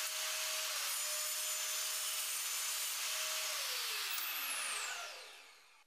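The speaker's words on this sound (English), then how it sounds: "And I cut the dowels to length." Wooden dowels being cut to length, a continuous, steady rasping saw stroke noise with a faint whine running through it, close and alone, trailing off at the end.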